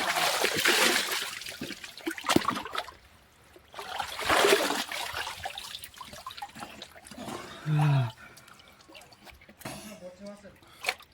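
Someone bathes in a cold stream, and the water splashes and churns in several loud bursts separated by quieter trickling, with a short voiced sound in between.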